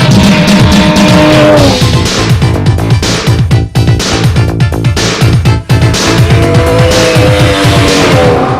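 Snowmobiles race in a women's event in the Yukon, 1994: loud, close engines whine and snarl steadily, their pitch rising and falling as the machines accelerate and ease off, with no pause throughout.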